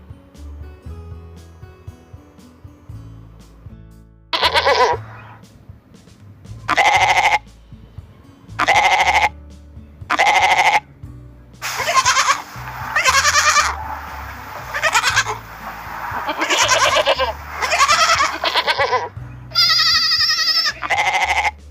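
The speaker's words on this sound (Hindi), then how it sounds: "गोट को हिंदी में कहते हैं बकरी" A goat bleats in a series of loud, separate calls, one after another, each call a few seconds apart and growing more frequent toward the end, with no voices over them.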